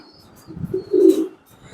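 Racing pigeon cooing at close range, a couple of low soft rolling coos with faint chirps around them and no talk.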